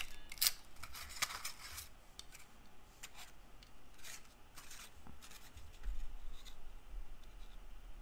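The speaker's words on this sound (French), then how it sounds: "je viens découper la grosse fleur" Scissors snipping through paper to cut out a large flower shape for stamping, with a series of close, crisp cuts and rustling paper handling between them, no talking.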